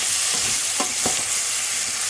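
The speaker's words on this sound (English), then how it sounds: "So I'll continue to fry these for another 3-4 minutes." Vegetables frying in a hot pan give a steady, loud sizzle throughout, broken by a couple of brief stirring scrapes near the middle.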